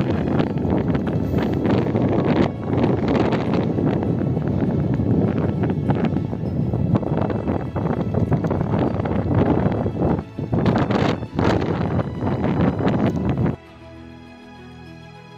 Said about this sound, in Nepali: हावा कति चल्या होला